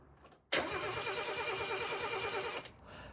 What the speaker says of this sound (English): when I turn the engine over